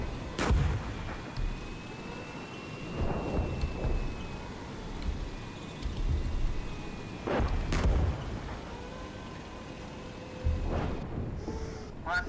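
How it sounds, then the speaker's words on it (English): Video game artillery fire lands in a series of deep, booming blasts spread a few seconds apart, each with a rumbling tail, over steady low background noise. "Just gonna start dropping artillery all through here."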